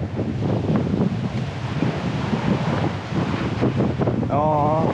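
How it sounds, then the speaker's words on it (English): Strong wind buffets the microphone at a fishing spot by Oregon Inlet, a loud continuous rumbling roar with gusty swells, and faint voice-like sounds appear briefly near the end. "trying to find where the wind ain't blowing here"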